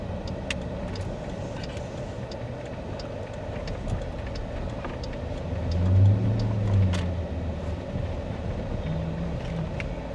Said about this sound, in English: keep your foot on the brake and then give it some gas